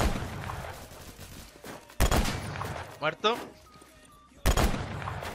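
Gunfire in the Roblox shooter Phantom Forces: a few separate loud shots with sharp booming onsets spaced seconds apart, over game background noise, with someone talking briefly between them.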